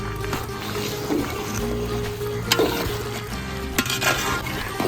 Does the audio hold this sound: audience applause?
no